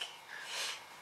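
A person with a cold sniffs once, a short breathy nasal intake that swells and fades, close to the mic and moderately quiet, with no talking.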